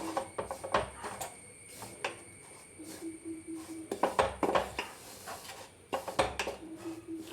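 Rice flour being stirred continuously as it roasts in a pan on the stove for avalose podi, giving scattered scrapes and metallic clinks of the spoon against the pan, close and moderately loud, with no talk.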